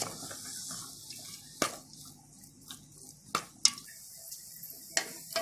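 Onions sauté with a pinch of salt in a pan: a soft, faint sizzle runs under several sharp spoon scrapes and clinks against the pan at irregular intervals. No voices are heard.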